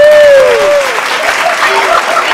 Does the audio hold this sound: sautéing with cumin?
no